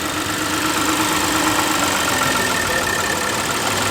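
A Lexus car engine running rough just after starting, a steady uneven idle with a mechanical knock and vibration, loud and close throughout with no talk.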